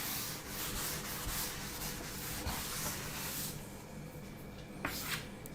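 Steady, scratchy rubbing of a duster wiping writing off a classroom board, close and continuous for several seconds with no talking.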